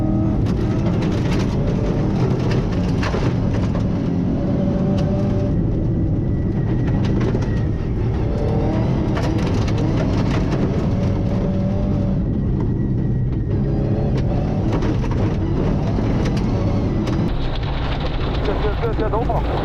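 A rally car competing at the Rallye de Charlevoix runs hard in onboard view, the engine droning loud and continuous throughout with road noise and gravel rattle, and voices talk over it.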